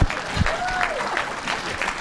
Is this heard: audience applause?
yes